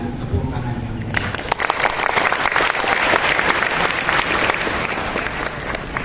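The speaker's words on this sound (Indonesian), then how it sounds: "kita sambut dengan tepuk tangan yang meriah" An audience at an Isra' Mikraj philosophy lecture at UIN Sunan Kalijaga breaks into loud, sustained applause for the speakers, swelling after a brief spoken introduction and continuing dense and close.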